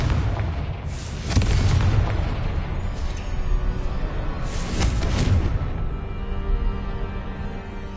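Fiery blasts from the Confringo spell in Hogwarts Legacy, two loud booming bursts around the first and fifth seconds over a dense rumbling game soundscape, no talk.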